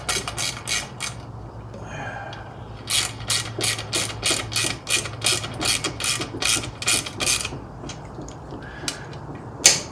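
A hand ratchet snugs down bolts on a 1980 45 hp Chrysler outboard motor, with a rapid series of sharp, close clicking bursts in a steady rhythm and short pauses between strokes.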